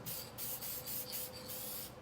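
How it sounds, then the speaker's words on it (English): Sealant sprayed lightly over a finished taxidermy fish to lock down powders and pan pastels, heard as a series of short, close aerosol hisses in quick bursts. "Try not to spray it at the camera lady."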